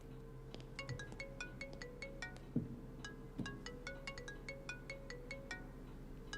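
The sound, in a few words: mobile phone ringtone ringing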